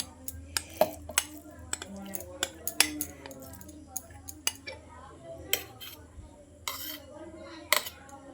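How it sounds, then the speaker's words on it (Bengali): Clinks and taps of a spoon against a steel mixer jar as a dry semolina and flattened rice mixture is spooned in, a string of sharp, uneven metallic knocks in a quiet kitchen. "এই মিক্সিং জারের মধ্যে সুজি আর চিড়ের মিশ্রণটা ভরে নিচ্ছি।"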